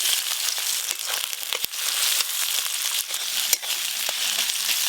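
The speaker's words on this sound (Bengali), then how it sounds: "আদা রসুন বাটা, পেঁয়াজ একসাথে ভাজা ভাজা করে দেবো।" Chopped onion with ginger-garlic paste frying in hot oil in a home kitchen, giving a loud, close, continuous hissing sizzle with scattered sharp pops and crackles throughout, no voices.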